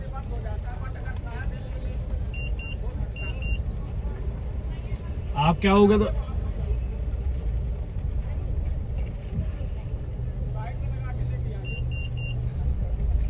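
A car runs with a steady low engine rumble while being driven and parked on a street at night, and people talk over it in Hindi with a brief louder burst in the middle.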